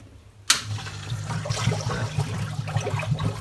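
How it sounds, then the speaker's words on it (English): A sump pump in a tank's sump switches on abruptly and churns water out, giving a steady rushing, gurgling flow with a low motor hum underneath, close by and continuous. "turn the pump on over here"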